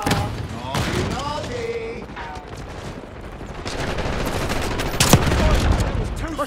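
Rapid gunfire and bursts of shooting in the video game Black Ops 6, loud and close, with sharp cracks and a heavy blast near the end, while voices speak over the action.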